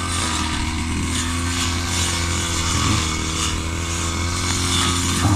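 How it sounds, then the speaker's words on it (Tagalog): A grass cutter engine drones steadily in a farm field, a continuous loud buzzing whine that holds at an even level throughout with no voices. "mag-grass cutter naman sila tatay"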